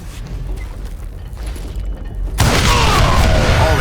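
A sudden loud explosion of gunpowder and dynamite bursts in after a low rumbling lead-in, a broad roaring blast that stays loud and sustained to the end.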